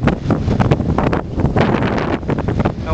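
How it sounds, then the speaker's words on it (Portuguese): Strong, steady wind buffets the microphone, a loud continuous low roar and rumble with gusty swells that lasts throughout, with no voices. "Olha como é que tá o vento."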